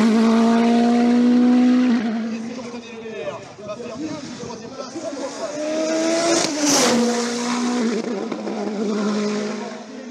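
Norma M20 FC sports prototype with a 1.7 litre turbo engine racing at a hill climb, loud and close, with high engine whine rising and dropping through gear shifts, tire noise and a sharp burst mid-pass, a voice talking over it.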